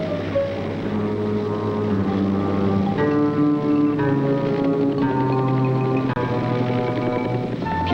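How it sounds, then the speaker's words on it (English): Navy helicopters on anti-submarine patrol fly overhead, a steady loud engine and rotor drone with layered sustained tones that shift in pitch as they pass, no voices. "Overhead, Navy helicopters on guard."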